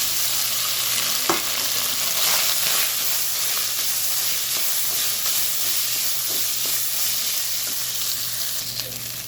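Rice mixed with curry leaf powder is stirred in a pan, giving a steady close sizzle and hiss with soft scraping strokes throughout and no talking.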